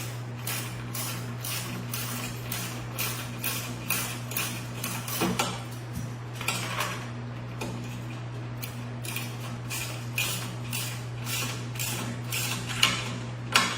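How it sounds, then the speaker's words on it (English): A ratcheting socket wrench snugs up compression nuts and bolts on an ANCHEER E650 elliptical machine, giving a steady run of close, crisp metallic clicks in quick succession over a constant low background hum, with no talking. "I'm going to use my socket wrench so I don't have to be trying to work underneath it"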